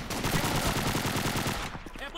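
Rapid automatic gunfire rattles in Call of Duty 2, a loud burst of closely spaced shots for about a second and a half before cutting off.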